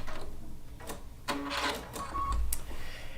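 A sewing machine runs a couple of short reverse stitches on quilt binding, heard as brief whirring bursts mixed with small clicks and knocks, fairly close and with no talking.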